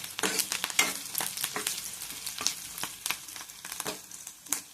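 Chopped onions fry in hot oil for a tempering, crackling and sizzling close up with sharp spits and pops over a steady hiss, plus occasional stirring scrapes.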